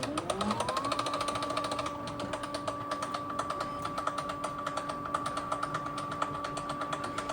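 A QIDI Q2 3D printer clacks while loading filament, with a fast, steady run of mechanical clicks and rising motor tones throughout. The sound is close and continuous, with no voices.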